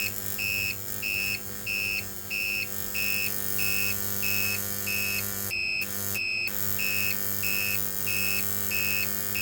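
A microwave oven transformer powered by a sine wave inverter through a ballast coil and light bulb gives a steady low electrical hum with a buzzy harmonic edge, while a high, faint beep pulses regularly over it.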